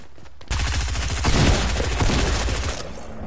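An SMG in the video game Fortnite fires one loud, close, sustained rapid burst lasting about two seconds, then stops abruptly.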